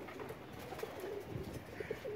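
A pigeon coos softly a few times in a quiet space, faint and close, with no talk.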